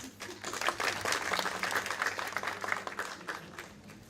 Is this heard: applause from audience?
yes